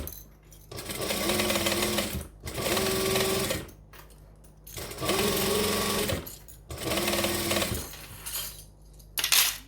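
A sewing machine stitching forward and back stitching, its steady whirring motor running in four long close bursts separated by short pauses, with a small clack at the end.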